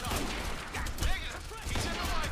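Rapid gunfire bursts in the shooter game Quantum Break, dense overlapping shots with small impacts, mixed loudly with game sound effects and someone talking over them.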